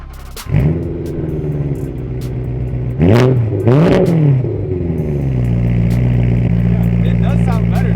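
A BMW E92 M3 with a cut-apart muffler fires up and then blips its engine twice in sharp, loud revs before settling into a steady rumbling idle, heard up close.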